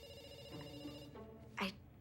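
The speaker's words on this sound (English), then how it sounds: "we pick up the phone because it's ringing." A telephone rings in short electronic bursts over a steady background hum, with no voices, before a louder burst near the end.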